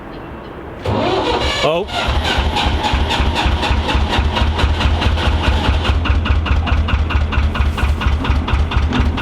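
A narrowboat's engine cranks and catches, then settles into a loud, steady close-up idle with a deep rhythmic thrum; a brief voice exclamation comes near the start.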